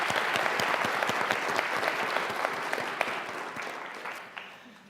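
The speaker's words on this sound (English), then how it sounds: "Let's give a big round of applause for our finalists today." Big round of applause for finalists at a college business pitch competition, dense clapping with sharp individual claps that slowly thins and fades toward the end.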